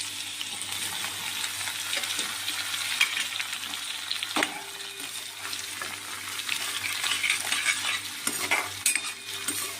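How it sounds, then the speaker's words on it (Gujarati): Green chillies, curry leaves and coriander frying in leftover hot oil for nylon poha chivda, a steady crackling sizzle with frequent stirring scrapes and light metallic clinks, close and unbroken. "ક્રિસ્પી થાય ને ત્યાં સુધી તળવાનું."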